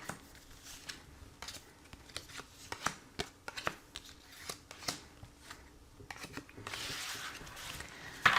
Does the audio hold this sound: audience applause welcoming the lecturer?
no